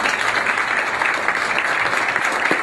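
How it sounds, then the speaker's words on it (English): Audience applause at a community sports organization's forum, sustained and dense clapping filling the room at steady loudness from start to finish. "So I just want to get a round of applause for"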